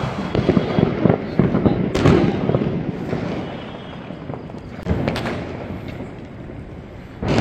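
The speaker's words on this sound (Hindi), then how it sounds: "बहुत फटाके फूट रहे हैं" Diwali firecrackers and fireworks crackling and booming all around from a rooftop, a dense continuous barrage of bangs near and far with several louder bursts rising above the roar.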